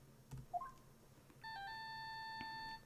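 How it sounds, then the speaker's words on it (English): A phone ringtone from the Phoenix Wright Ace Attorney video game: a few short electronic blips, then a steady sustained multi-tone synthetic ring holding loud and alone until the end. "I bet it was this ringtone that caused it."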